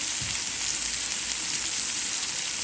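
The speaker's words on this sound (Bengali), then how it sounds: "চিংড়ি মাছ ভুনা করবো। দিয়ে দিলাম কতগুলো টমেটো কুচি" Chopped tomatoes and shrimp fry in a pan with a steady, loud, close sizzle that hisses evenly throughout, with no talking.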